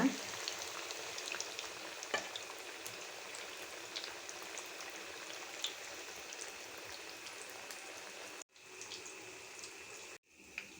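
Chicken cutlets fry in a pan over a low flame with a steady, close crackling sizzle that runs throughout, cutting out briefly twice near the end.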